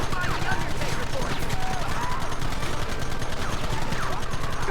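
Dense volleys of gunfire crackle through a Red Dead Redemption shootout, rapid overlapping shots packed tightly together and sustained at a steady loudness, with shouting voices mixed in.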